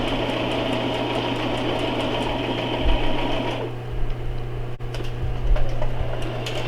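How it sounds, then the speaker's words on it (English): A sewing machine stitching a pillowcase in a beginners' sewing class, running with a steady whirring hum and fast mechanical ticking that shifts in pace partway through, close and continuous. "they are sewing their pillowcase together"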